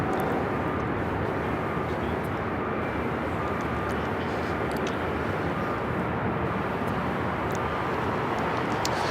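Continuous loud roar of an Airbus A321 jet airliner at LAX airport, a dense engine rumble that holds steady across the whole stretch with no pauses.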